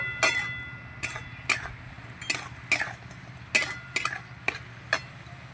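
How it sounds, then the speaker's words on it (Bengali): Spoon stirring chicken curry in a pot, a series of sharp, irregular clinks and scrapes against the metal, about a dozen knocks over a low simmering background, close and alone without voices. "নাড়িয়ে নেব"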